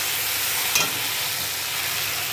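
Potatoes hit hot oil and spices and fry with a steady, even sizzle, alongside a single brief scrape of stirring, close and moderately loud, with no talk.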